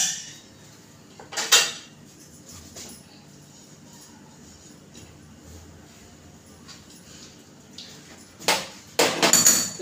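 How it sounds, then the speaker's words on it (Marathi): A lid is set onto a cooking pot of rava ladoo syrup mixture, giving a couple of sharp metallic clanks and rattles, close by, separated by a quiet stretch of low background sound. "मी आता ह्याच्यावर झाकण ठेवते."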